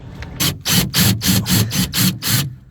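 A power tool backing out a screw from a Lexus GX 460 door handle, a loud close whirring buzz pulsing in about seven quick repeated bursts.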